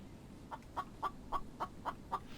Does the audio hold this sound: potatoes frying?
no